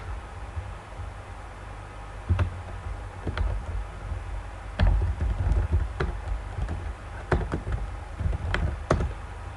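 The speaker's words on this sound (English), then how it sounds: "I am typing, but I can also just talk." Keys clatter on a computer keyboard during a live stream, with irregular clusters of close, crisp keystrokes and scattered single taps over a low background hum.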